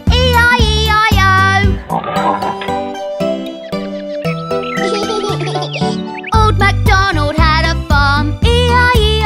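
Voices imitate a pig's oinks in a sung children's farm song, the repeated oinks landing rhythmically over loud, bright music.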